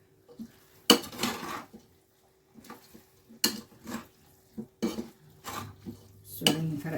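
A spoon scrapes and clanks against a pan while food is stirred, with irregular bursts of metallic scraping separated by short quiet gaps, close and fairly loud, alongside a faint low hum.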